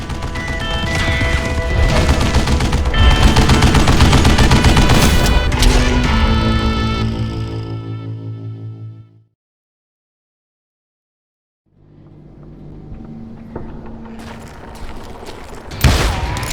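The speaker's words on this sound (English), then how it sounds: "Kid Curry opened up on me with a goddamn Gatling gun" Rapid Gatling gun fire in Call of Juarez Gunslinger, a dense loud barrage of shots and crashes that cuts to silence, then returns more faintly with scattered impacts and one sharp hit near the end.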